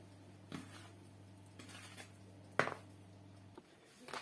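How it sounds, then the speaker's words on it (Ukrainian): Flour being stirred into cake batter in a bowl, with a few soft scraping and clinking knocks of the utensil against the bowl over a low steady hum, no talk. "і далі додаю муку і гарненько вмішую"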